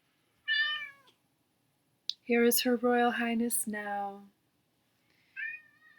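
A cat meows in short, close, clear calls at the start and again near the end, with a person talking in between.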